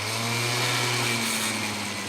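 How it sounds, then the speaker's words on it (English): A small two-stroke engine drones at high revs, loud and steady with a buzzing exhaust note and a slight dip in pitch partway through. "Here's the same moped revving long from an exhaust perspective."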